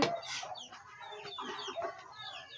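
Chickens cluck and squawk in quick, overlapping bursts at close range in a rural Lao village yard, a busy, continuous chatter of several birds with no talk.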